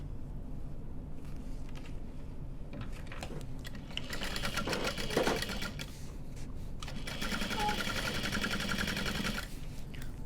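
A sewing machine stitches a handbag seam in two stretches of rapid, even mechanical whirring close by, rising above a low room hum with short pauses between.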